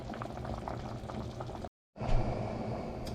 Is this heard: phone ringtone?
no